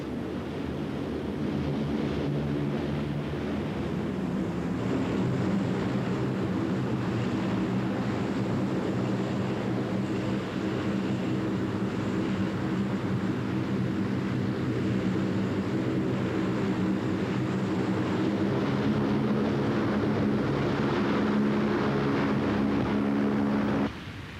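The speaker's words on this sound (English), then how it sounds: "let's look at another aeroplane without which the Falklands affair would not have been possible, the Lockheed C-130 Hercules" A Lockheed C-130 Hercules transport aircraft at the 1983 Greenham Common air tattoo makes a short landing and quick takeoff with a loud, sustained turboprop drone that holds steady throughout.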